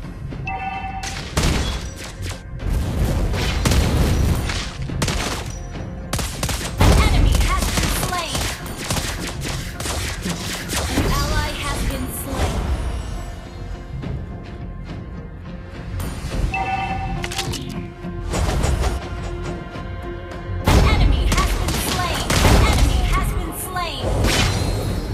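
Mobile Legends match with marksman hero Lesley firing in bursts of sharp gunshots and booming impacts, layered with game effects. Character voice lines and announcer callouts are heard throughout.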